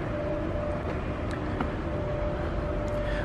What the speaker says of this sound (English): So today I'm going to do a sound test for this bike.